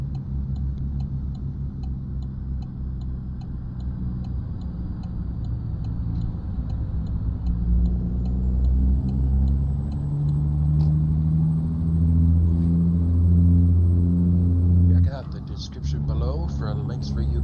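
A heavy truck in American Truck Simulator rolls through a weigh scale in second gear at idle speed, a steady low engine drone and rumble with faint ticking, rising slightly before a brief shift near the end.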